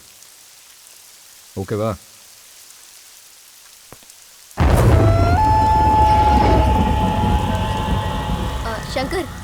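Heavy rain with thunder pours in suddenly and keeps up as a loud, dense wash, following a short quiet stretch in which a voice speaks once briefly.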